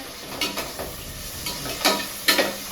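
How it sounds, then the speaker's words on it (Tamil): Tomato masala stirred in a cooking pan, with soft scraping strokes and a faint steady sizzle; a few louder spoon scrapes stand out near the end. "கிளறி விடுங்க"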